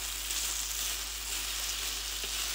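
Rice sizzles and fries in a pan while being stirred, a steady close crackling hiss with no voices.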